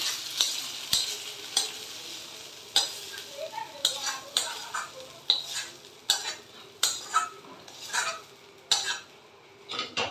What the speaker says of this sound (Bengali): মশলাটা ভাজা হয়ে গেছে, এইটা এবার খিচুড়ির মধ্যে দিয়ে দিলাম।